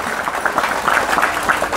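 Applause for the santri at a National Santri Day ceremony in Indonesia, a crowd clapping briskly in a dense patter that stays fairly close and loud for the short burst.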